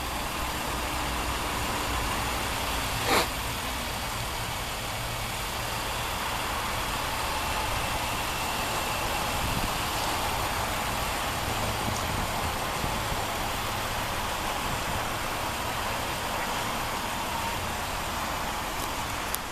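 A 2014 Nissan Pathfinder Platinum 4WD with a VQ35 3.5-liter V6 idles steadily in a low, even drone for the whole stretch, with a faint broadband hiss and one brief click near the start, no voices.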